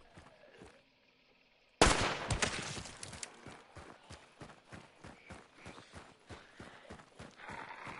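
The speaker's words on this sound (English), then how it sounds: "I hear gunfire." Gunfire in a PS4 shooter game: after a quiet start, a sudden loud blast opens into steady, rapid bursts of shots that keep a regular rhythm to the end.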